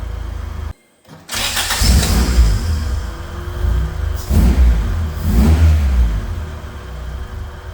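A Honda B series engine cranked by a Type R starter, catching after a short silence and firing up loudly close by, then revving in two distinct swells before settling toward idle.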